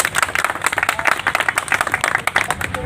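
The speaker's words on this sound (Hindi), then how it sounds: "भावना मैडम जी का उपरन्ना उड़ाकर स्वागत ताली के साथ में" Applause from a gathered audience welcoming a guest at a ceremony, a dense run of close hand claps that holds steady for a few seconds.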